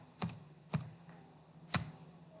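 Three crisp keystrokes on a computer keyboard while entering a block command in AutoCAD, evenly spaced and close, with quiet room tone between them.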